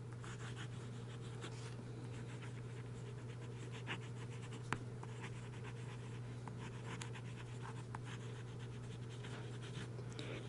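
A German-made pen with a steel nib scratches faintly across paper in a quiet room, with soft, continuous strokes over a steady low hum.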